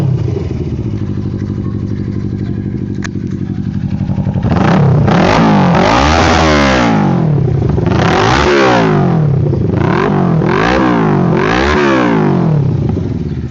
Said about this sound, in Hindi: तो अब आप लोगों को इसका साउंड टेस्ट दे देता हूँ मैं मोटरसाइकिल का।